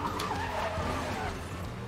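A car drifting in the racing video game Need for Speed Most Wanted: a rising, wavering tire skid over a steady engine drone, with game background noise throughout and no clear voice.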